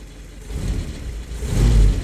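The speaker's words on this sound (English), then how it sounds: "Let's push in the throttle all the way then. What a beast, what a carb." A Willys Jeep engine with a carburetor, still cold, revs up hard at wide-open throttle, a loud rising roar that swells twice. No talking.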